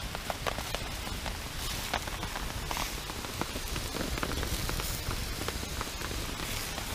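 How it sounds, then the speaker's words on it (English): Steady rain falls at a motorcycle campsite, a dense, continuous patter of drops on surfaces with scattered sharper taps, constant and moderately loud throughout with no talking. "The rain is still going on."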